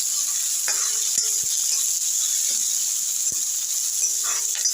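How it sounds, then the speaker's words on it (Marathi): Masala for pasta sautés in oil over a low flame with a constant hissing sizzle and a few soft stirring knocks and taps, close and even, no voices heard. "आता आपल्याला हे परतून घ्यायचं आहे तेलावरती"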